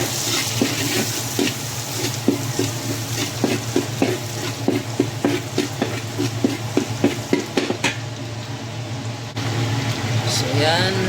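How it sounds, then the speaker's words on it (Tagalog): Garlic and onion sizzling in hot oil in a pan, a steady frying hiss with repeated sharp scrapes and taps of a spatula stirring, while a voice talks over it. "So gisa na natin guys."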